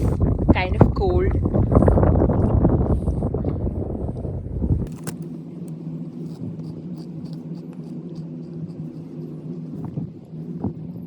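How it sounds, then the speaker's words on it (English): Strong wind buffets the microphone in rough, loud gusts, then eases off, leaving a steady engine hum, on a cold day trip from Vienna. "It's too windy."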